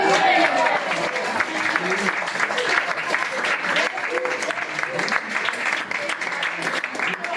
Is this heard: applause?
yes